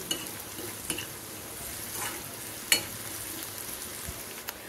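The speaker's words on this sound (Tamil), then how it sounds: "அது வர வரைக்கும் கொஞ்சம் வதக்கிட்டு நம்ம அந்த வெங்காயத்தோடு நம்ம போட்டுக்கிடலாம்" Onions, garlic and ginger sautéing in a pan for pepper chicken, a steady low sizzle with occasional spoon scrapes and stirring clinks, fairly quiet and close, no voices.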